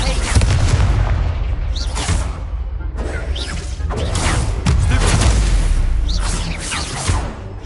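Confringo fire spell blasts from the Hogwarts Legacy game, a run of loud booming explosive bursts with crackling debris, several impacts across the stretch amid game noise and brief voices.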